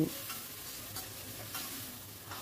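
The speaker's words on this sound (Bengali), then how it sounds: "এবার আমি দিয়ে দিচ্ছি পোড়ানো ভেন্ডির টুকরোগুলো, দিয়ে সব কিছু ভালো করে মিশিয়ে নিচ্ছি" Burnt okra pieces being mixed and fried with tomato in a pan, a quiet, even sizzle with light intermittent stirring scrapes, close by and without any voices.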